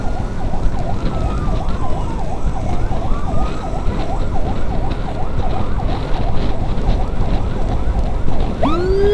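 An ambulance siren wails loudly and continuously with a rapid rising-and-falling yelp during an escort for a premature baby referral, over road and engine noise.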